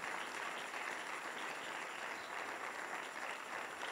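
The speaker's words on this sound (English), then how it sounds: "Can you clap for Jesus and give him praise?" A church congregation claps together during a worship service, producing dense, steady applause that fills the room without a break.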